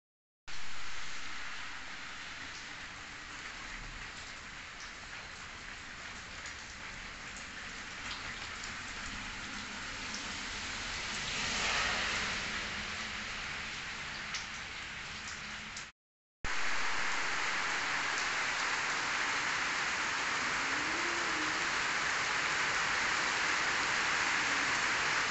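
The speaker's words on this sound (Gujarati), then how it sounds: "વરસાદ તો હજી બંધ જ નહીં થયો, 1 કલાક થઈ ગયો, હજી સુધી ચાલુ જ છે." Heavy, continuous rain pours down outside a house after hours of downpour, a dense steady hiss of drops on surfaces, close and loud, with a brief cut partway and then an even stronger roar.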